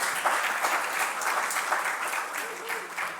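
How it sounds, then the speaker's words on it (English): Audience applause at a Hizmet peace and dialogue gathering, a steady dense patter of clapping from a moderately sized crowd, continuous and even throughout with no voices standing out. "I think I deserve a big round of applause for that"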